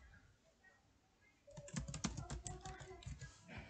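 Quick bursts of keystrokes on a computer keyboard start partway through, a close run of about a dozen sharp clicks after a quiet opening.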